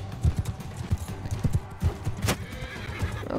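Rhythmic clip-clop of horse hooves trots along steadily, with a horse's whinny mixed in, game audio from Mount & Blade II: Bannerlord.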